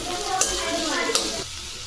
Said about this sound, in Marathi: यामध्ये आता कांद्याची पात टाकून घेऊ आणि ही व्यवस्थित परतून घेऊ।